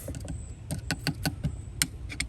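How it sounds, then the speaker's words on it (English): Metal clicks and creaks from pliers working a hose clamp loose under the hood of a 2013 Honda Pilot during a thermostat change, a run of short close snaps over a low steady hum. "We're gonna loosen up this clamp, and then we're gonna take pliers and remove"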